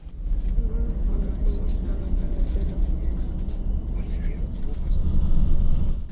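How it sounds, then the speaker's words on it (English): Luxury sleeper bus cruising toward the motorway, a steady low road rumble and engine drone heard from inside, with someone talking over it. "For much of the trip, we cruise at the bus's limited top speed of 100 km per hour"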